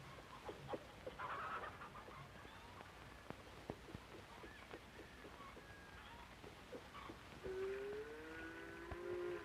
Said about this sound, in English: takes care of the chickens